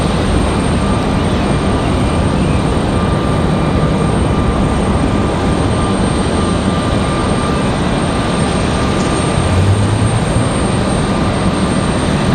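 An American Airlines A320 airliner at Raleigh-Durham airport roars steadily and loudly, its broad engine noise holding without a break and without voices.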